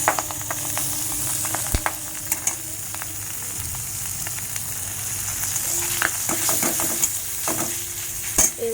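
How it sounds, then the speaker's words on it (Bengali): Chicken mince fries in hot oil in a pan, producing a continuous close sizzle with spatula knocks and scrapes scattered throughout, louder crackles bursting toward the end. "এবার এই তেলের মধ্যেই আমি চিকেন কিমাগুলো দিয়ে দেবো।"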